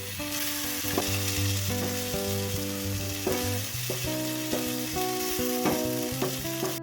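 Prawns roasting in oil in a pan hiss with a steady, dense sizzle while a spatula turns them with occasional soft scrapes, over faint background music.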